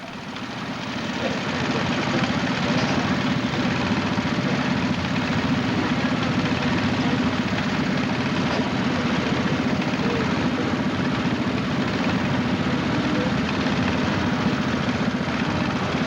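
A tractor engine at a show runs loud and steady with a broad, constant rumble that holds unbroken throughout.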